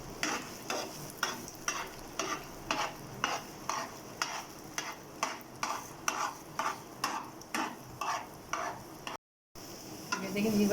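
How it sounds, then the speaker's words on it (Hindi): Beaten eggs frying in hot oil in a pan for chicken fried rice, stirred with a spatula in a steady rhythm of scraping strokes over a constant sizzle, close and fairly loud with no talking. "अभी जो अंडों को हमने फेंटा था डाल देते हैं इसमें डाल के।"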